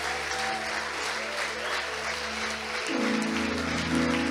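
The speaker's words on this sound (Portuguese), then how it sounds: "aplaudindo ao Senhor pela vida do pastor André" A church congregation applauds steadily in the sanctuary as sustained organ or keyboard tones swell beneath the clapping and grow louder toward the end.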